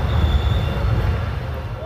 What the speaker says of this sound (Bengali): সকাল 6:20 নির্ধারিত সময় ট্রেন আমাদের জয়পুর স্টেশন ছেড়ে দিল।